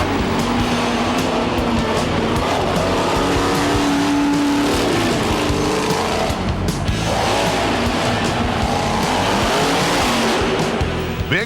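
Monster trucks such as Bigfoot and Gravedigger race in a loud, continuous roar of big engines, with tire squeals and skidding in the mix and a fresh surge of revving partway through.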